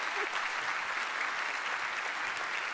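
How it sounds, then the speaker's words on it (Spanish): Steady applause from an audience for a family at a live event in Concepción, dense and even throughout without a break. "Aplauso para la familia Manzano."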